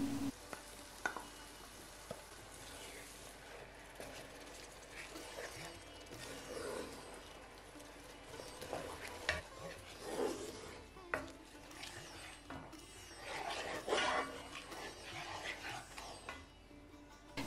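Pureed tomatoes going into hot oil in a pan for a potato-paprika curry, giving a soft, continuous sizzle and bubbling with occasional stirring scrapes, fairly quiet and close.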